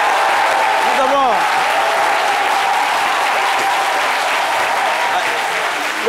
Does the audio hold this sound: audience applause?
yes